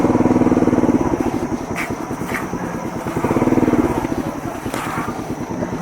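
A motorbike's engine runs low and steady on arrival at a temple, with a rough, pulsing drone swelling and easing as it moves slowly along close to the microphone, under some wind noise.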